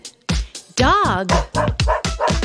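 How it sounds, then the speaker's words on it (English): A dog barks in a quick run of several close, loud yips and bow-wows, one stretched into a whining howl in the middle. "Dog."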